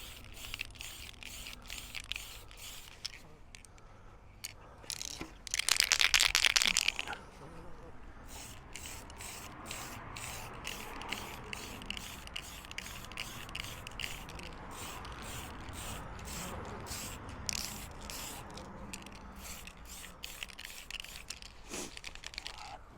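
Spray paint hisses loudly in one burst of about two seconds onto the body of an HPI 1/5 scale gas Baja 5B RC car, followed by quieter rustling and handling noises with occasional speech.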